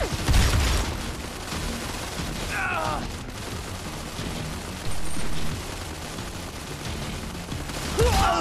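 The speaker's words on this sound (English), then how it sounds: "Blink, get to that platform and provide cover fire!" Gunfire in the Modern Combat 4: Zero Hour video game, sustained bursts of rapid shots and booms with clanking mechanical sounds and a few louder blasts, continuous and close throughout.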